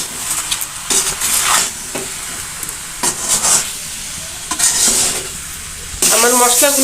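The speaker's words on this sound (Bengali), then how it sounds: "এবার সুন্দর করে মিশিয়ে নিতে হবে আমার মশলাগুলো" Spices being stirred together for a sweet, sour and spicy olive pickle, a series of close scraping and mixing strokes in bursts with brief pauses, a faint sizzle under them and a louder rustling stir at the end.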